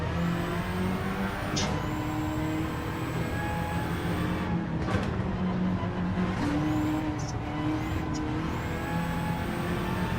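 Racing car engines from Gran Turismo drone continuously at the Trial Mountain circuit, a dense steady roar with rising and falling revs and occasional gear shifts, fairly loud with no talk.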